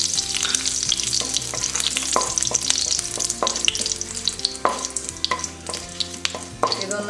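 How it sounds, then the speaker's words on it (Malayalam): Curry leaves and green chillies hit hot oil with popped mustard seeds for an egg thoran, crackling and sizzling loudly up close with sharp spits and bursts over a constant frying hiss. "ഇതിലേക്ക് ഞാൻ കറിവേപ്പിലയും പച്ചമുളകും ഇട്ട് കൊടുക്കുകയാണ്."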